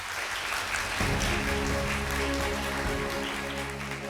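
Audience applause greeting a guest speaker at a lecture-concert on regional growth, a steady wash of clapping over a low music bed with tonal notes, moderately loud throughout.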